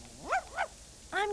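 Dog in the video game Tenchu 2 whimpering in three short, high, rising-and-falling whines, close and clear over a quiet background.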